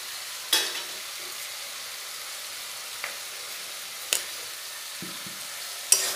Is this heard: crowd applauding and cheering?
no